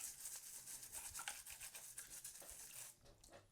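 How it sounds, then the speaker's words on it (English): Quick, continuous bristly scrubbing as a regular toothbrush scrapes mineral buildup off the small jets of a shower head, close and fairly quiet, with a short pause near the end. "I just take a regular toothbrush. And you want to clean these little jets here."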